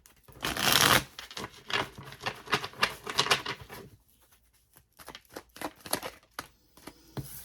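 Tarot cards are shuffled by hand close up, a loud riffling burst followed by a run of quick soft flicks and slaps in an irregular rhythm, quiet in between, with no talking.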